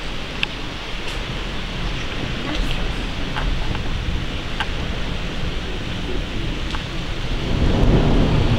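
Steady heavy rain pouring down, a dense continuous wash of noise with occasional brief spatters, swelling slightly louder toward the end.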